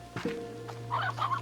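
A chicken in the video game Slime Rancher 2 gives a few short clucks, faint and close, over a low steady game hum.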